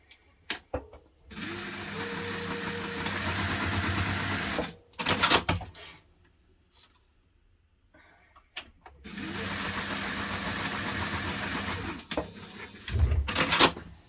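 A sewing machine bastes connectors in place on a hipster bag, running in two steady stitching bursts of a few seconds each, close and clear, with quiet handling noises between them.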